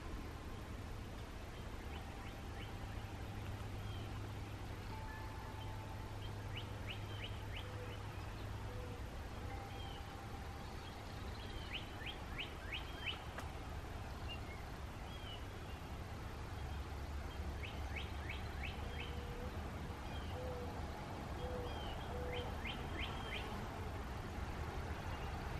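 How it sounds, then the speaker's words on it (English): Distant woodpecker drumming comes in several short, rapid bursts, spaced irregularly over a steady background hum of outdoor noise. "Heard a woodpecker."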